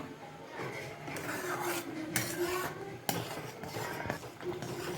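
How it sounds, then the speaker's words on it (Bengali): Spoon scraping and stirring thickening homemade chili sauce with vinegar in a pan on a gas stove, a steady close rasping rub with occasional sharper clinks of utensil on metal, no talking. "নাড়িয়ে নাড়িয়ে আমি সসটা গাঢ় করে নেব"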